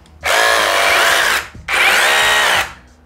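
A PIT cordless drill bores holes in two loud, sustained bursts of whining motor, each lasting about a second, close up with no talk.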